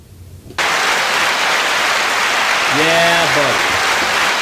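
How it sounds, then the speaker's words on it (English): A long round of applause, loud and dense, that starts abruptly and keeps steady to the end, with a voice briefly calling out over it midway. "It's a long round of applause."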